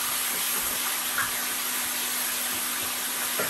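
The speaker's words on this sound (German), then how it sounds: "dann gießen wir Wasser auf" Water pours steadily into a pan on the stove while curry-apricot turkey roulades are being braised, a continuous close splashing rush with no voices.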